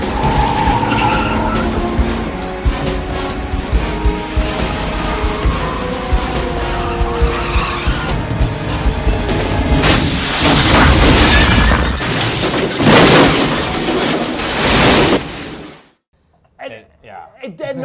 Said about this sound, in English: The car chase is so good.